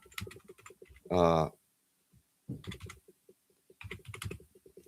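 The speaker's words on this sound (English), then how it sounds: "Reading this and typing." Computer keyboard typing in light, irregular bursts of key clicks, interrupted by a short loud voiced sound and spoken talk.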